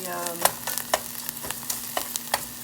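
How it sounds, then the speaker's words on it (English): Macaroni mixture browning in a pan while being stirred, regular spoon scrapes and light clinks over a soft continuous sizzle, close up with no voice. "this is where I'm going to be doing a lot of stirring"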